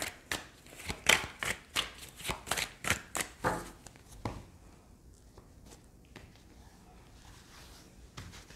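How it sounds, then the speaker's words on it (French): Rider-Waite tarot cards are shuffled and handled in a quiet room, giving a fast run of close, crisp riffling snaps for about four seconds, then sparse soft card handling and taps. "Je prends ensuite 3 cartes du tarot Rider-Waite."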